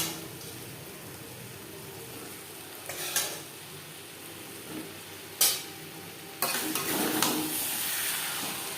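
Boiled, fried potatoes stirred in a pan with mutton fat and mutton liver for an alur dum, a steady low frying hiss with a few sharp scrapes and clinks of the spoon against the pan.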